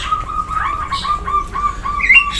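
A caged ciblek sawah songbird sings a run of bright, high chirps and short whistled phrases, steady and close, with no talking.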